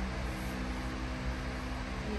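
A hair dryer runs continuously, giving off a steady, even rushing whoosh with a low motor hum beneath it and no breaks.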